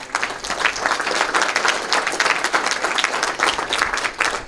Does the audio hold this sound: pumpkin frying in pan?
no